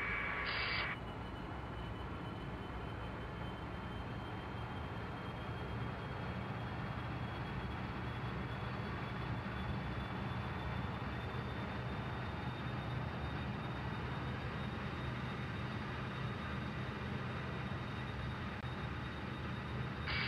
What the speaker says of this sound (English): Engine 2 set to start.